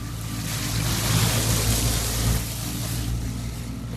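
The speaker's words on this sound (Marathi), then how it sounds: "आता मित्रांनो दाखवतो तुम्हाला आपली पातळगंगा नदी तुफान भरली असत. एवढा पाऊस पडतोय" The Patalganga river, swollen and flooded after heavy rain, rushes past in a loud, continuous low roar of churning water with no talking.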